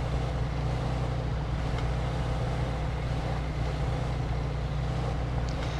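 A car drives along in the video game Mafia 2, a steady droning engine hum with constant road rumble, unbroken and fairly close, with no radio playing.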